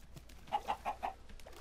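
A Minecraft chicken clucks in four quick, evenly spaced notes at moderate volume, standing out alone over a quiet background.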